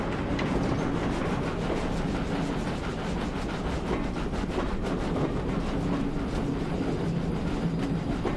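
A TSC Class 6000 King model locomotive runs steadily on its track, giving a continuous, even rolling rumble with faint rhythmic clicking and no voices.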